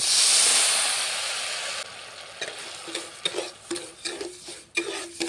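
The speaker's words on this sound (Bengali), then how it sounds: "কড়াইয়ের মধ্যে দিয়ে দেবো 1 বাটি চিনি। সামান্য পরিমাণে জল দিয়ে এটাকে ক্যারামেল বানিয়ে নেব।" Sugar and a little water going into a hot wok to make caramel for a sweet rice dessert: an initial bright hiss fades into soft bubbling and repeated stirring scrapes, close and without talk.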